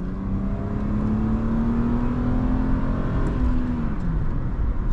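A 1988 Mercedes 260E W124 with 160 hp pulls hard at full throttle in sport mode, a steady, loud engine drone rising in pitch through the gears with constant road and wind roar.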